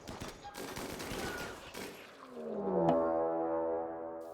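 Automated turrets open fire in the video game Rimworld, a rapid cluster of sharp shots followed by a ringing, tonal burst that swells and fades, loud and close.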